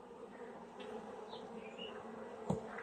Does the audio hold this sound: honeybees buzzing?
yes